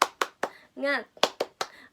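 Sharp hand claps in a quick rhythmic pattern during a classroom teaching session, three claps, a short shouted voice, then three more claps, close and clear.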